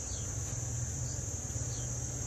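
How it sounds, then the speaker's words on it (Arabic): Honeybees clustered in the upper box of a Japanese-style hive while fixing and building wax comb, giving a steady, dense hum that continues without a break and stays close throughout. "النحل متكتل ويبني في الأعلى في الصندوق في الدور الثاني كما تشاهدون أمامكم"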